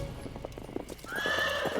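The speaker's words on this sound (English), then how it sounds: "The horse's hooves thundered closer to the infant." Horse hooves clip-clop in a steady rhythm on paving stones, then a loud neigh rises over them near the end, close and clear with no talk.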